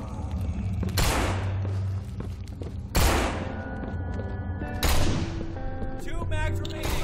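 Three heavy shotgun blasts in the zombie video game No More Room In Hell, spaced a couple of seconds apart, each booming and then ringing out, with voices and game sounds underneath.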